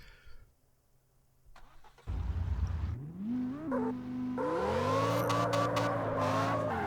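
An engine-swapped car in the CarX racing game starts up and accelerates. The engine rises through revs in a loud, climbing, multi-harmonic tone, with a gear change partway through, then holds a sustained high-revving drone.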